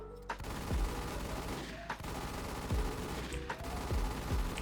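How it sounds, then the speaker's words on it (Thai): Rapid automatic gunfire from a video game weapon firing in dense, continuous bursts, loud and close, with a few heavier thumps among the shots and no talking. "การยิงจะประมาณนี้นะครับทุกคน"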